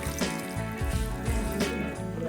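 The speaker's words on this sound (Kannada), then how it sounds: "ಸ್ವಲ್ಪ ನೀರು ಹಾಕಬೇಕು" Water poured into a mixer jar already holding coriander leaves, green chillies, ginger and garlic for a biryani masala, a short steady trickling splash lasting a couple of seconds, close and fairly loud.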